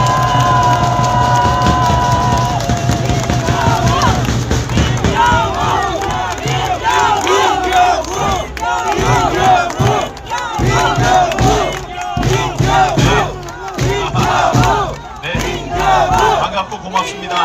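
Large outdoor rally crowd outside a supreme court bursts into sustained cheering, shouting and clapping that stays loud and dense throughout, with a few voices rising above the roar.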